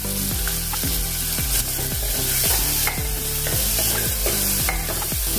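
Finely chopped onion hits hot oil with garlic and asafoetida, setting off a loud, dense, continuous sizzle up close while a utensil stirs and scrapes the pan in a steady rhythm.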